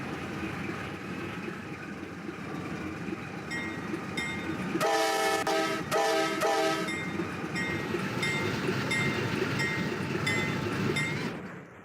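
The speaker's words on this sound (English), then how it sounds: "Here's the NS train coming in." NS freight train rolling into a rail yard in Binghamton, a steady rumble of cars and wheels with a loud blast of the horn in the middle, heard from trackside at moderate distance.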